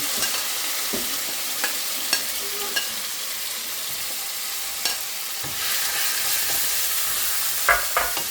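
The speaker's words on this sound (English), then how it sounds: "Now I'm going to add the onions and" Onions and other ingredients frying with browned garlic in a pan for a fish curry: a steady close sizzle with scattered clicks and scrapes of stirring, growing a little louder toward the end.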